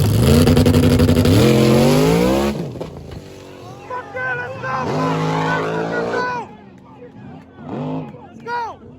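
A turbocharged, high-compression H22 Honda Civic race car revs hard and close for a few seconds with rising pitch, then lighter squealing and crowd noise follow.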